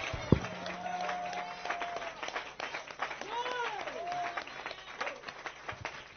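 A church congregation applauds and cheers to acclaim the Lord's name, a sustained crowd clapping under and around loud voices calling out, with a pitched tone or organ note rising and falling through it.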